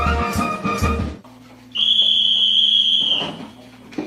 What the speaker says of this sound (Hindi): ठीक 10 बजे की सीटी ऐलान करती है सोने के वक्त का